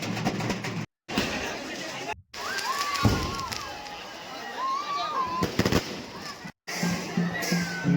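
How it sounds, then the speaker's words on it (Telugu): Firecrackers burst in a crowded street during a Kanakamma festival in Chinna Waltair, with sharp pops and crackles spread through the clip under continuous crowd noise and talk, broken by a few short gaps. "full crackers"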